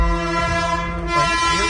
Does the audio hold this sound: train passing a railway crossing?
yes